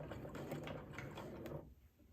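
Home sewing machine stitching garment facings from the center back with a steady whirring, rattling mechanical run at close range that stops near the end.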